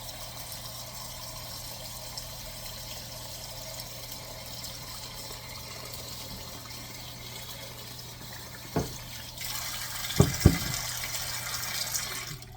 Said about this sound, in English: Now I'm going to fill this pot up with water.